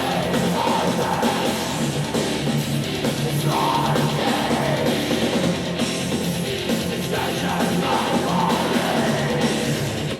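Growling metal vocals from a song roar continuously over dense, distorted instrumentation, a harsh, steady wall of sound with no spoken voice.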